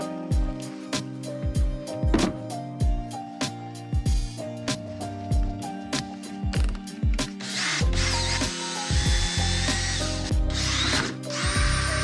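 Drill boring holes into a car's centre console while preparing an Evo: repeated short bursts of a power drill with ratcheting clicks, close up, growing into a longer, denser grinding run near the end, no talk.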